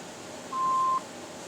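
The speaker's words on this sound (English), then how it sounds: "phone number after the beep" A single steady electronic beep, about half a second long, sounds over faint line hiss, like an answering machine tone signaling to start recording.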